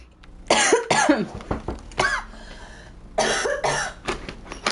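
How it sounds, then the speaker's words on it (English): Several harsh, close coughs in quick succession, a short pause, then another cluster of rough coughing. "I keep coughing"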